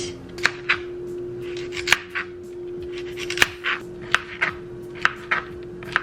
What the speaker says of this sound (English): So obviously we need to do any prep that we have to, like peeling this carrot.